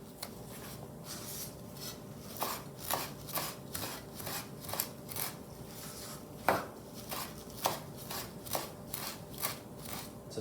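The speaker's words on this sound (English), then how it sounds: "So we fine chop it" Parsley being finely chopped with a knife on a board for pressed cucumbers, a steady run of quick, close rasping cuts with a few sharper knocks, alone with no talk.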